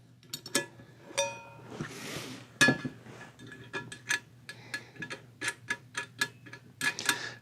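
A metal handle is fitted to the skillet of a Boy Scout camp cook kit, making a run of light, close clinks and ticks of metal on metal, with some rubbing in between.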